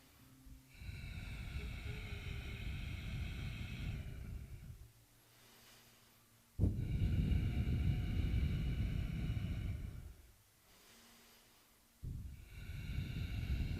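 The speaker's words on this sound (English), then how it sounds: "Stay with that breathing." Slow, deep yoga breathing during a power yoga session in a locust pose, with long loud breathy inhales and exhales in a steady cycle close to the mic, separated by brief quiet pauses.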